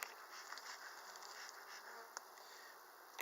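Honey bees buzz around a hive of two deep boxes holding a full colony, a soft continuous droning hum with a few closer passes, fairly faint and with no talking.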